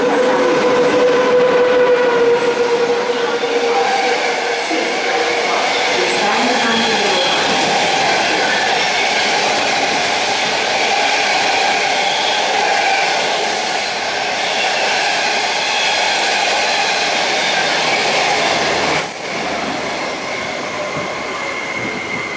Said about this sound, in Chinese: 黄沙田的列车现在到站